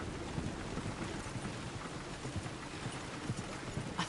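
Horse hooves clip-clopping along a road in Red Dead Redemption 2, a steady trotting rhythm under a broad rushing background of wind or rain, with no talking.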